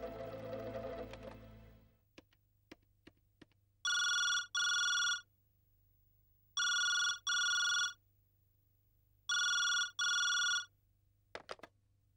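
A telephone rings in three loud double-trill bursts spaced a few seconds apart, after some clicks and a short stretch of low background sound.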